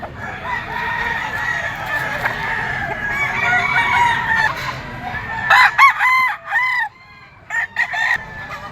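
Roosters at a Grotto pet market crow and cluck; one long crow carries over busy market murmur, followed by several louder, closer bursts of crowing and clucking near the end.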